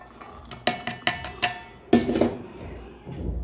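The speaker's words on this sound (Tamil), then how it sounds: "அதுக்கப்புறம் நம்ம எடுத்து வச்சுருக்க பூண்டை உரலில் போட்டு கொஞ்சம் நசிச்சு எடுத்துக்கலாம்" Garlic is pounded in a stone mortar while making a herbal kuzhambu, with about half a dozen sharp, close knocks at uneven intervals, followed by softer grinding and scraping.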